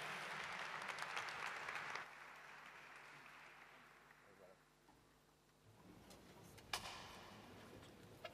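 Audience applause at a Christmas charity concert in Italy, a broad wash of clapping in the first two seconds that then thins out, with a few sharp knocks and some voices near the end.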